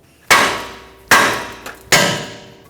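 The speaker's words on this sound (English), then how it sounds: "we're going to take a hammer to the side of the knuckle right here, tap it" A hammer strikes the side of a steering knuckle on a 2015-2024 Jeep Renegade to free a tie rod stud. Three sharp metallic clangs ring out close and loud at even intervals, each decaying quickly.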